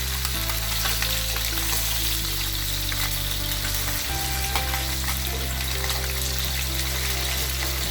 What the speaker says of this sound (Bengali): আমি এখন মাছটাকে ভালোভাবে উল্টিয়ে দিব। এটা আপনারা স্পুন দিয়ে উল্টাবেন